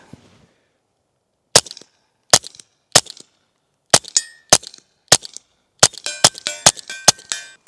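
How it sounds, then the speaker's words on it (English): Supersonic Remington Thunderbolt .22 rounds fired from a Ruger Mark IV pistol fitted with a Dead Air Mask 22 suppressor: about a dozen sharp cracks, spaced at first then quickening into a rapid string, loud and close with silence between. "These are Supersonic Remington Thunderbolt rounds. Let's see how they sound."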